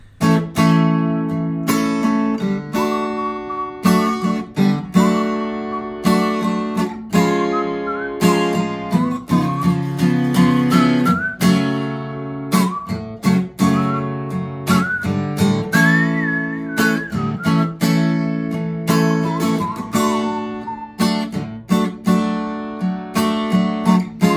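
Someone whistles the melody of a song over a steady instrumental accompaniment of sustained chords and rhythmic plucked or struck notes, continuous and fairly loud throughout.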